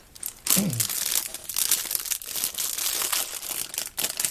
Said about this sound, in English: I've opened the plastic bags